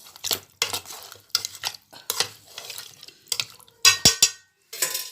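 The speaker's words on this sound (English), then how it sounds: "Mix it well." Okra gravy being stirred in a pot, with a utensil scraping and clinking in a series of short bursts, loud and close, with no talk.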